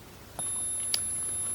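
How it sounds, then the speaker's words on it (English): A multimeter's continuity buzzer sounds while its probes test drain to source on a shorted MOSFET, giving a quiet, steady electronic tone that begins abruptly and continues, with a small click partway through and no talk. "We get a continuity, a buzzer."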